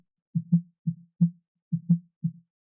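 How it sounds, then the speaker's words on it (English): Six low, thuddy snare drum hits, tuned below 200 Hz, mostly in close pairs with short gaps between, dry and bassy with no other sound around them. "This is where the snare is hitting."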